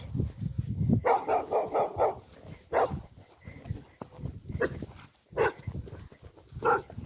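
A dog barks behind a hedge in bursts of several sharp, close barks separated by pauses, with grunting and rustling between them.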